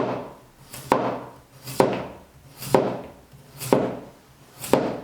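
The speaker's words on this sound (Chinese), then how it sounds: "切成厚片" A knife cuts peeled potato into thick slices on a board: five evenly spaced, crisp chops about a second apart, close and clear with no talking.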